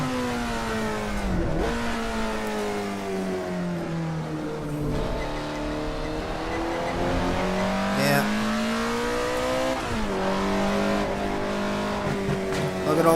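A race car lapping a track in the racing game Assetto Corsa, its engine revving loudly and rising through the gears, dropping on each shift and climbing again, with faint tire noise at times.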